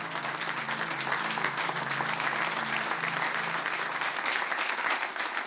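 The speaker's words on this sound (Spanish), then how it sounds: "Le damos un buen aplauso al Señor." A church congregation at a Friday evening service applauds after a prayer, sustained dense clapping from many people, even and fairly close, with a faint low hum underneath.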